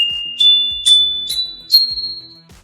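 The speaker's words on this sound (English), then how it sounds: "So for the xylophone, a high pitch was produced by hitting a short bell, and a low pitch was produced by hitting a long bell." A child's toy xylophone is struck several times, each bar giving a bright, clear ring that hangs briefly, the tones stepping slightly upward in a slow, even series.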